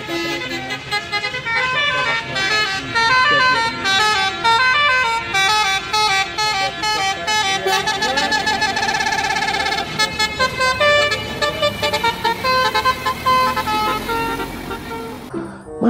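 A Sudiro Tunggal Jaya bus sounds its basuri horn, a loud melodic musical horn playing a rapid run of tuned notes that continues almost without a break for the whole passage, close and dominant.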